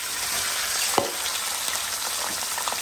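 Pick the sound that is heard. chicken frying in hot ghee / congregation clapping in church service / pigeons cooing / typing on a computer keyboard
chicken frying in hot ghee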